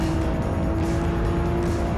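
A car drives in the Roblox game, a steady loud engine drone with a constant hum, heard alone without talk.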